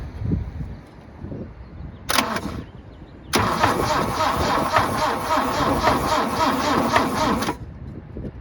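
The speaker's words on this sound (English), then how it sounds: "I think we're just gonna crank this thing over a little bit before we try to start it." The 18RC engine of a 1972 Toyota Celica cranks over after a timing chain job, first in a short burst and then in a longer steady churn with a metallic clanking rhythm, loud and close.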